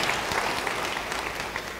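A church congregation claps together in steady, dense applause, somewhat distant and even throughout, with no talk over it.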